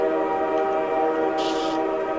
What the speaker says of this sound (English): For a split second, I thought that was a train just outside my window.